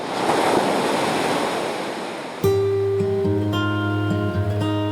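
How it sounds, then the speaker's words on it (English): Ocean surf breaking at Cocoa Beach, Florida, a steady loud wash of waves with wind, which cuts abruptly to a different scene with sustained tonal sound in the second half. "Cocoa Beach is considered the small wave capital of the world"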